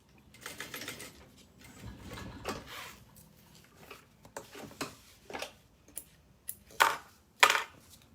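Sewing machine basting stitches around a bag panel, heard as irregular short mechanical bursts of stitching with small clicks and pauses, fairly quiet and close, with no talking.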